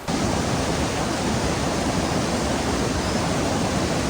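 Dense, roaring rush of Jogini Falls near Manali, loud and unbroken from start to finish with no voices.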